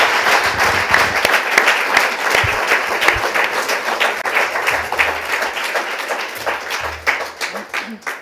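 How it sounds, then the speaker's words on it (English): Thunderous audience applause for guests at a Berlin literary evening, loud sustained clapping from a full hall with a few faint voices underneath, gradually thinning out. "I ask you for a thunderous applause for our guests."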